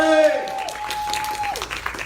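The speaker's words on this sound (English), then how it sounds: "give Ori a hand of applause. Ori!" Audience applause at a live stage show, a broad steady wash of clapping filling the whole moment at moderate volume after a host's voice trails off.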